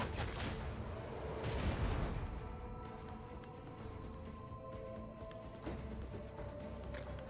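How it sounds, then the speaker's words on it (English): Weapon salvo from the grimdark tactical game Rogue Trader: a loud burst of blasts in the first two seconds, then a rumbling, clattering tail of scattered impacts, with no talk. "Another salvo!"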